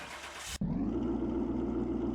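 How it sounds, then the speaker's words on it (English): Supercharged Hemi engine in a black Plymouth Volare restomod in Car Mechanic Simulator, catching with a sharp start at half a second, then settling into a loud, steady idle rumble that holds for the rest of the clip. "We've all heard the beautiful rumble of that Hemi engine before."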